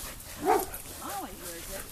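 A dog barks a few times, sharp yips near the start and again at the end, with a whimpering tone in between, fairly close and moderately loud.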